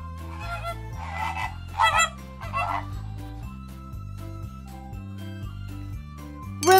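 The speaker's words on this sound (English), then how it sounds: "Flamingo." A flamingo call from a preschool educational alphabet toy plays as several short honking squawks in bursts, over a steady looping electronic bass melody, ending with a bright chime.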